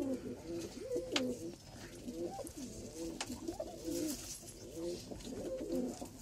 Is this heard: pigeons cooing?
yes